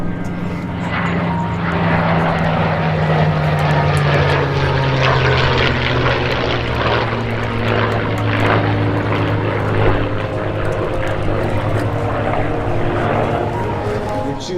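A P-51 Mustang and an F4U Corsair warbird fly past in close trail at an air show at MacDill in Tampa. The propeller engines drone loud and sustained as they go by, with the pitch sliding lower as they pass.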